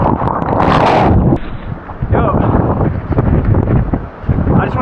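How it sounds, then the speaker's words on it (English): Strong wind roars down a lakeside beach, buffeting the microphone in loud gusts, rumbling continuously with a brief lull partway through. "I just want to take note of that wind howling down the beach."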